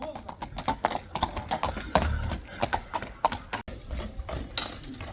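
A horse's hooves clip-clop at a horse showing or sale in Kyrgyzstan, an uneven series of close hoof strikes, with people talking over and between them.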